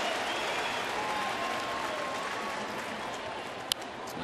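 Baseball crowd at a Tigers home game in Detroit against Kansas City, a distant, sustained wash of applause and murmur filling the ballpark, with a brief sharp pop near the end.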